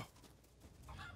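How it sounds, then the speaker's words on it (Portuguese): A chicken clucks briefly and quietly in Resident Evil Village, a short faint burst of fowl calls with no talk over it. "Opa, galinha."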